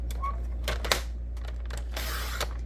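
Paper trimmer slicing a 1 by 11 inch strip of cardstock for a handmade card: a few short scraping and clicking strokes, then a brief brushy swish of the blade through paper, close and fairly quiet.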